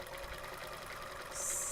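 A serger sewing machine cutting and overlocking fabric for grime guards runs with a steady, quiet mechanical whir, uninterrupted and with no talking.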